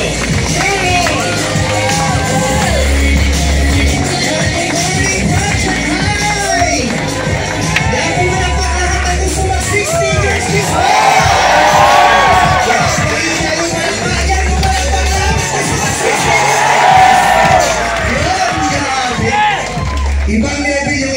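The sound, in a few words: crowd applauding and cheering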